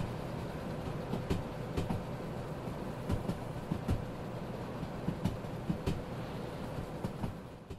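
Train cars rumble past steadily with a continuous low roar and regular clanks from the wheels on rail joints, no voices.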